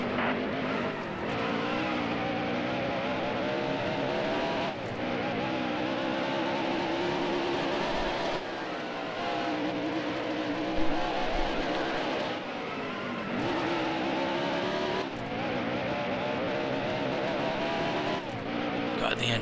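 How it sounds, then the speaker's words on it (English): A race car engine in the video game NASCAR Heat Evolution, droning loudly and continuously with rising and falling pitch as gears shift, while a spotter's voice calls out over it. "God, the engine sounds so bad."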